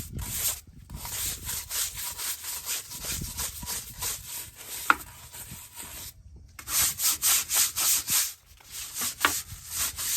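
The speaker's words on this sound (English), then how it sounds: "We're gonna finish scrubbing here." Brush scrubbing caked brake dust off a car wheel rim, a steady run of close, loud rhythmic strokes with two brief pauses, no talking.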